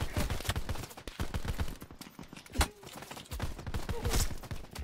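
Video game gunfire crackles in rapid, repeated bursts, one shot standing out sharper and louder midway through a steady stream of shots.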